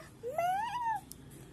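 A voice imitates a single cat meow, one short rising-then-falling whine, fairly soft against quiet background.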